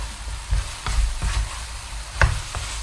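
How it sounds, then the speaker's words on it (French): Apple pieces cooking over high heat in a pan with sugar, a continuous close sizzle broken by a few low spoon knocks and stirring thumps. "je vais poursuivre la cuisson toujours sur feu vif, puisqu'il va falloir que ces pommes caramélisent"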